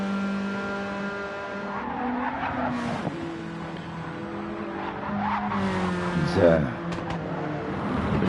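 Race cars in an endurance racing video game whine past with engine tones rising and falling while tyres squeal and skid briefly, all under steady commentary from two voices.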